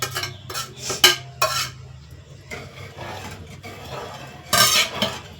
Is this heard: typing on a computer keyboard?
no